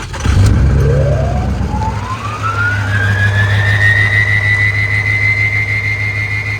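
A 6.0 Power Stroke diesel pickup with a 9-blade turbo cranks briefly, fires and catches, then settles into a loud, steady idle. A rising turbo whine climbs over the rumble and holds high, close and continuous.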